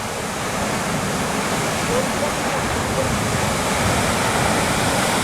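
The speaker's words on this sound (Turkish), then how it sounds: "İşte coşkun sular denize tepeden aşağı hızla dökülmekte." Düden Waterfall in Antalya plunges from a cliff into the sea, producing a loud, steady roaring rush of falling water that stays dense and unbroken throughout, with a voice speaking faintly beneath it.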